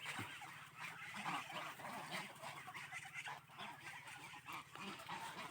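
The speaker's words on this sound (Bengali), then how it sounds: "এই হলো রাজা হাঁসগুলো আমার সবগুলা" Muscovy ducks kept on a small farm make a faint, continuous stream of soft honking calls, with no voices.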